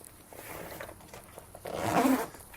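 A zipper on a bikepacking bag pulled open, close and scratchy, building to a louder rasping pull near the end.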